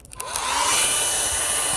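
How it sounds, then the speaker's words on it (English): A secondhand hair dryer switches on and settles into a steady, loud whooshing whine close by, used to heat a dealership sticker on a vehicle, with no talk. "what I'm gonna use is my trusty Goodwill hair dryer"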